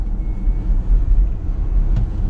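A Ford Mustang Mach-E electric car accelerating gives off a deep, steady low rumble inside the cabin, fairly loud and unbroken, with a brief faint tick near the end.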